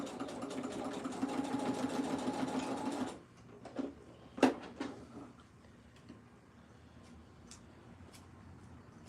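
A sewing machine stitching cow print shorts fabric near a zipper runs in a fast, steady burst for about three seconds, then stops, followed by a few light clicks and handling noises.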